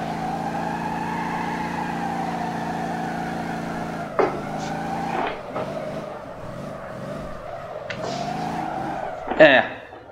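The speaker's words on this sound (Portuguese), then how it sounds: "Ali eu usei o freio de mão e acabei derrapando demais" A V8 turbo limousine in the driving game Motor Town drifts with the handbrake, its engine droning steadily as tires squeal in several short bursts, the loudest near the end.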